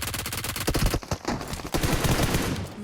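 Rapid automatic gunfire from a PUBG Mobile match rattles out in dense bursts, a quick volley, a brief gap near one second, then more sustained shots running to the end.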